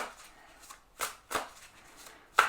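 Druid Craft tarot cards being shuffled by hand in several quick riffling bursts, close and crisp, with short pauses between them and no talking.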